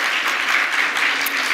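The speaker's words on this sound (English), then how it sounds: "Let's also give a huge round of applause for Lin Su Cooney." Audience applause at a 35th anniversary celebration for a leadership organization, a steady, dense wash of clapping that fills the short stretch at even loudness with no talk over it.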